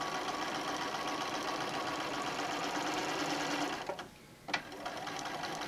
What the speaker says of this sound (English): I'm just going to straight stitch around here.